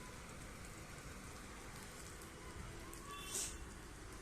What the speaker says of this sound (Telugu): అటు ఫుల్ వర్షం పడ్డది